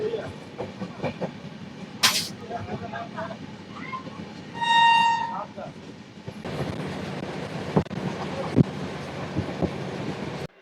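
The Saraighat Express runs along the track with a steady rumbling clatter and wind noise. A loud horn blast sounds midway, and a voice speaks at times over the train.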